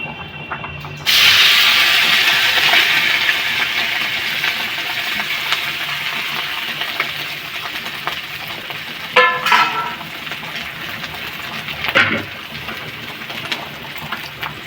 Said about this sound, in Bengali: সিদ্ধ আলুটা একটু গ্রেট করে নিয়েছি এই তেলের মধ্যে দিয়ে দিচ্ছি